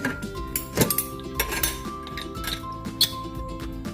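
A metal pressure cooker lid is set onto the pot of pork ribs for tinola, giving a few close clinks and clatters of metal against metal amid light kitchen noise.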